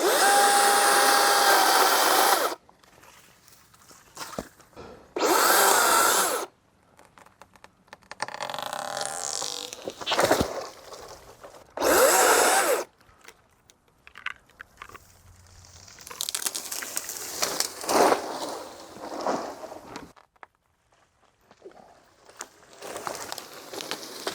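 An electric chainsaw whirs in several loud bursts separated by quieter stretches of crunching and cracking wood as dead trees are cut during land clearing.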